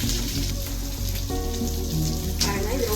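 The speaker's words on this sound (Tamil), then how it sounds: "இங்கே பாருங்கள், நல்லா ஃப்ரை ஆகிட்டு இருக்கு." Vanjaram fish frying in a pan with curry leaves gives a steady, close crackling sizzle that runs the whole time over a soft tonal background.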